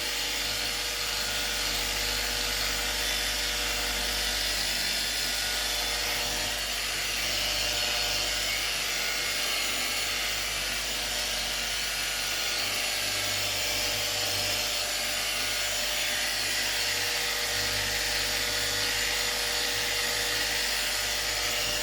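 A steady, high electric whine of a power polisher buffing a guitar's finish runs continuously and loud, with a low hum beneath and no pauses.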